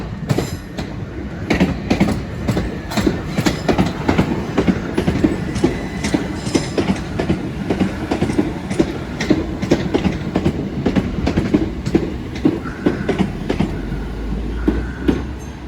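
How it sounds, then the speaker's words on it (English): A Class 375 electric train rolls past the level crossing at Deal on a service to Ramsgate, its wheels clattering in a steady rhythm of rail joints, loud and close for the whole stretch, with no voices. "The 1718 service from Charing Cross to Ramsgate."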